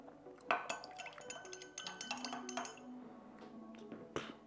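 A Manhattan cocktail with orange bitters being stirred in a glass, with light clinks and liquid swirling mixed with scattered bench clatter. No one speaks.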